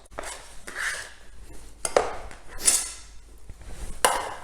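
A knife chops Mediterranean vegetables into small cubes on a board, giving a run of close, irregular knocks and scraping taps with no talking.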